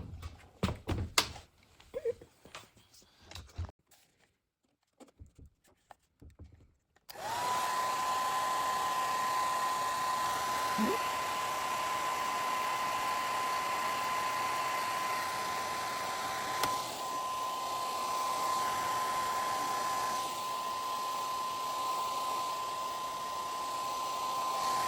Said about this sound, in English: let me grab my blow dryer